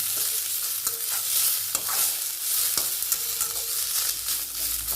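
Black pepper, green chillies and dried red chillies sautéing in a pan for green tamarind rice, giving a continuous loud, close sizzle broken by periodic scrapes and taps of a stirring spoon, with no talking.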